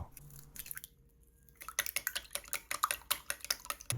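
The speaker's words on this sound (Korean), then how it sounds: "모든 준비가 끝났으면 계란 3개를 큰 볼에 풀어주세요" Three eggs being whisked in a large bowl, a quick run of sharp, rhythmic clicking and sloshing strokes close by after a short quiet handling moment, no voices.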